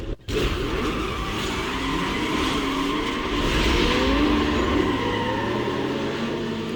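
Race car engine in Need for Speed Most Wanted revving up through the gears, its pitch repeatedly climbing and dropping at each shift. The engine roars loud and close and holds steady throughout, with no talk over it.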